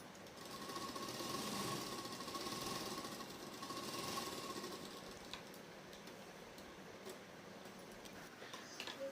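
A sewing machine runs steadily while stitching a salwar seam, a faint, continuous mechanical whir with fine rhythmic ticking and no talking.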